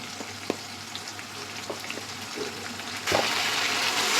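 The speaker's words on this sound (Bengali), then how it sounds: "আমি এখন মশলাটাকে ভালো করে কয়েকবার পানি দিয়ে কষিয়ে নেব" Spice paste of ground cumin, coriander, chilli, garlic and onion frying in a pan with water while being stirred, a steady soft sizzle with scattered scraping taps that grows louder and brighter near the end.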